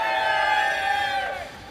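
A locomotive whistle in the Railroads Online train game, one sustained loud blast holding steady before tapering off toward the end.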